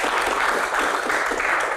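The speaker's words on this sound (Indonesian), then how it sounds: "Tepuk tangan buat quote of the day." An audience claps in a short, steady burst of applause at a Q&A event, with a faint murmur of voices beneath it.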